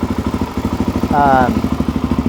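A 2006 Suzuki DRZ motorcycle engine idling close by, a steady rhythmic thumping exhaust pulse with a brief mechanical whine partway through.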